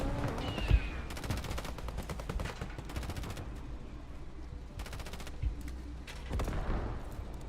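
Gunfire in the Foxhole video game: repeated bursts of rapid automatic fire and scattered single shots at moderate distance, with a few heavier thumps mixed in and no talk.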